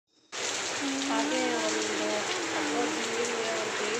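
Heavy rain pours down steadily at a village home during the Diwali festival, a dense, close hiss that starts abruptly and runs under a person talking.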